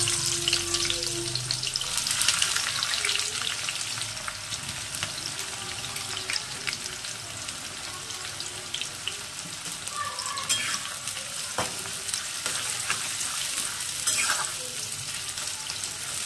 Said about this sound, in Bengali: তেল গরম হয়ে গেছে, আমি দিয়ে দিচ্ছি পেঁয়াজগুলো।